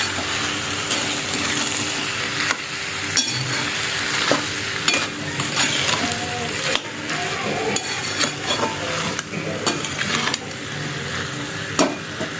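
Bhogi vegetable mix, seasoned with salt, is sautéed in a pan: a steady, close sizzle of frying runs throughout, broken by frequent spatula scrapes and soft clinks against the pan, with no talking.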